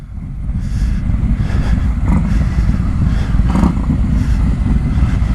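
Harley-Davidson Road Glide motorcycles rumble close by as they roll out, a loud, steady low engine drone with rough throbbing texture throughout and slight swells as throttles open.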